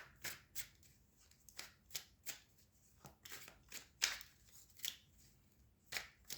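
Tarot cards are shuffled in a quiet room in a steady series of crisp riffling bursts, about a dozen in all, close and fairly soft, with no talk.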